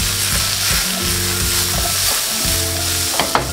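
Tomatoes sauté in a hot pan for a tomato and pumpkin spaghetti, a steady close sizzle and crackle of frying with occasional stirring clicks, and no one talking.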